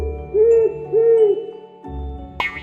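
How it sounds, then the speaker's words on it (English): An owl hoots twice in a clear, smooth, rising-and-falling call, loud and close, followed by a short tail of other sounds and no talking. "O is for owl."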